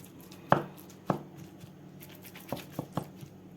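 Chopped vegetables are worked into minced-meat kofta by hand in a bowl, giving a handful of separate soft slaps and thumps with quiet pauses between them.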